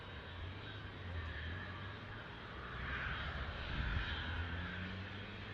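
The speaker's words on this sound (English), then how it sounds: "Etihad Dreamliner heading back to Abu Dhabi," An Etihad Boeing Dreamliner airliner sits holding on the runway at Manchester Airport, its engines giving a steady, distant rumble and whine that swells slightly partway through, with faint bird calls and no talking.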